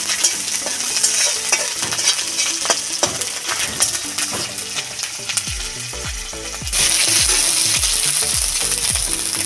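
Green chilli and ginger frying in a pan with steady sizzling and repeated stirring scrapes, growing louder and brighter toward the end as the hiss intensifies.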